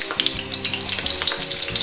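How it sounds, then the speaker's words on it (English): A batch of beef pieces frying in really hot neutral oil in a pan for Mongolian beef, giving a loud, close, continuous crackling sizzle with rapid popping and no voices. "Water boiling, turn down the heat, oil really hot, and get the first batch of meat in there."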